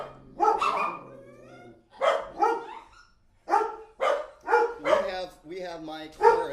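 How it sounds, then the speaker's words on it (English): Several dogs bark together in a chorus of loud, repeated bursts separated by short gaps. Some of the calls are drawn out into yowls, and a voice may be mixed in. "We have my chorus of beautiful dogs right now."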